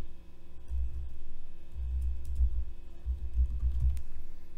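Keys clacking on a computer keyboard while entering a poll answer in a Microsoft Teams meeting, quick irregular bursts of close, soft taps in several short runs, with no talk.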